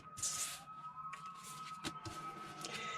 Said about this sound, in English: Sirens and alerts going off here.